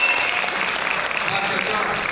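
A festival audience applauds a first-prize winner, with steady, dense clapping filling the whole stretch at moderate loudness and some voices mixed in.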